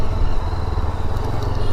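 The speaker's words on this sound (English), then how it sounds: "This thing is, it just loves to be revved" A Yezdi Adventure motorcycle engine runs steadily under load with a dense, continuous rumble, close and loud throughout the short stretch, with no voices.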